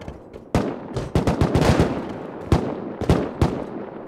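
Bursts of video game gunfire crack close and loud, single shots mixed with rapid clustered volleys spread across a few seconds, with no talk over them.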